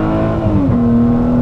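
A Ford Mustang engine on a mountain road trip holds a steady drone, then its pitch dips and settles into a strong, even hum. It is brief and close, with no talking over it.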